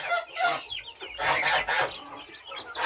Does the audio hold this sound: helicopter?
no